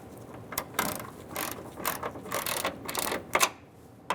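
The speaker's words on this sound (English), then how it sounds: "so now we're going to snug them up and then we're going to torque them to 80 inch-pounds" Ratchet wrench clicking as it snugs nuts onto the tow mirror mounting bolts of a Ford E-350 Super Duty van, bursts of close, crisp ratcheting strokes in uneven runs with short pauses between.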